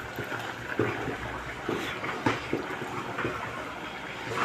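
Water boiling in a pot as ragi flour is poured in for ragi mudde: a dense, steady bubbling hiss broken by soft, irregular pops and splashes.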